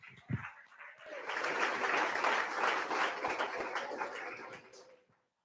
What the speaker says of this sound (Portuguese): Aplauda o Deus vivo.